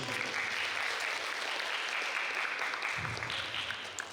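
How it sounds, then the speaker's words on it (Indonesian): An audience at a university guest lecture at ITS applauds in a loud, sustained crowd of clapping hands that holds steady throughout and thins slightly near the end. "Tepuk tangan untuk BBC."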